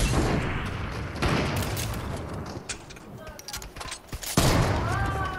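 Gunfire in the Fortnite video game, with rapid bursts of shots and booms filling the scene, some near and some further off, while players talk over it.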